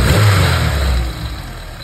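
A car engine runs at idle, close and loud, after repairs to leaks and smoking. It gives a steady low rumble with a slight unevenness and no voices.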